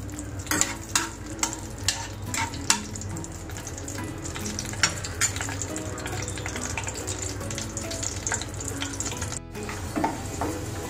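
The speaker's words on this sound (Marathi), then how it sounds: "असे ड्रायफ्रुट्स तळून घेतले की त्याची चव छानच लागते" Dry fruits and raisins fry in ghee in a pan, making a continuous soft sizzle broken by a run of sharp, regular spoon clicks and scrapes, with no talking.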